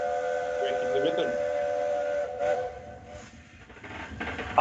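A mainline steam locomotive used for rail tours arrives at a railway heritage site in Hopetown, Darlington, giving a steady whistle-like tone over crowd noise, with voices talking nearby.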